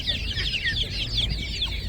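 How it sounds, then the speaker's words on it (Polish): Chickens clucking in a group at a poultry market, a busy overlapping chorus of short clucks over steady low crowd and market background noise, continuous and moderately loud. "To są kurczaczki, tak?"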